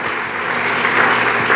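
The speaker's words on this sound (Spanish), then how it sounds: "Dele palmas al Dios del cielo." A church congregation claps together at a sermon, a dense, loud, continuous burst of applause filling the room.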